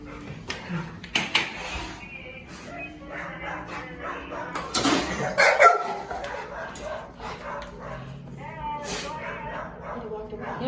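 A dog barks, yips and whimpers in short, intermittent bursts at close range, mixed with people talking and some clattering of dishes in a home.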